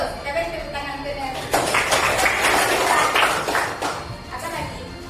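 A classroom of students claps for a correct answer, a burst of scattered hand claps lasting a couple of seconds in the middle, with a teacher's voice speaking before and after.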